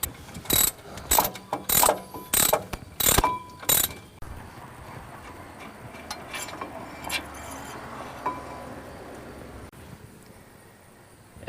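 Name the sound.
removing brake caliper mounting bracket bolts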